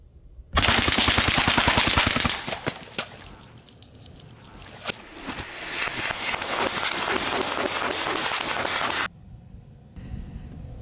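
A Western Mordax PCP air pistol fires full-auto bursts outdoors at a target 35 yards away. The shots come as loud, rapid, closely spaced cracks in a dense run that cuts off abruptly, followed by a steady hiss and then a quieter tail.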